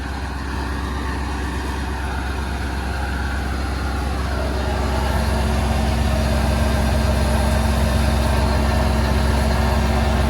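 A tractor engine runs during sunflower seeding, producing a loud, continuous low diesel rumble with steady mechanical hum from nearby equipment, with no talking.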